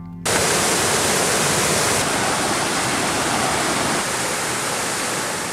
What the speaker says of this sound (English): Here in Exmoor, this stream is quite turbulent, and its erosive powers are quite high.